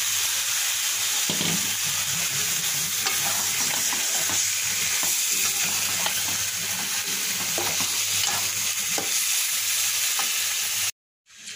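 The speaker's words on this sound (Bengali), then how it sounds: "মশলা কষা হয়ে গিয়েছে, তেল বেরিয়ে আসছে। এবার আমি মাংসগুলো দিয়ে দেবো।" Loud, continuous sizzling of chicken frying in a thick spice masala, with repeated scraping of a spoon stirring the pan throughout.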